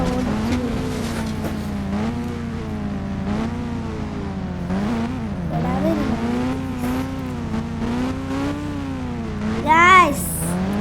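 A motorbike races in the mobile game Indian Bike Driving 3D on a ramp course, its synthetic engine whine rising and falling continuously with throttle, plus a sharp squeal near the end.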